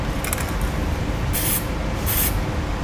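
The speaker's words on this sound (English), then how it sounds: "we'll just spray paint the holes to help mark the locations" Two short hissing bursts of spray paint marking drill-hole locations on the frame of a 1988 Ford F-150 during a heavy-duty trailer hitch install, each about half a second long, close and loud over steady background noise.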